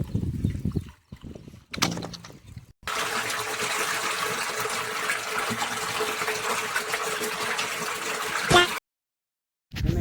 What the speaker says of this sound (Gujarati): પાણી નીકળે બહુ બધું.